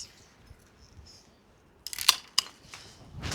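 Pruning shears cutting hydrangea stems above a set of buds in a spring garden, two or three sharp close snaps after a quiet stretch, followed by light rustling, no talking.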